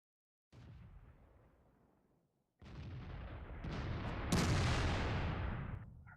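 Tank cannon fire in the video game World of Tanks, from a T-34-85, KV-1S and T-29, heavy booming shots with long rumbling decays, one fainter blast followed by two louder overlapping ones, no voices.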